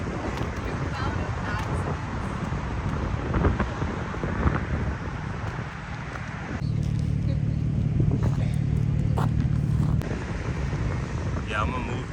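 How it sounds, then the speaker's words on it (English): A Ford Mustang 650 pulls up on a downtown Boston street, its low engine rumble swelling and holding steady for a few seconds midway through, heard beneath gusty wind noise. "The Mustang just pulled up."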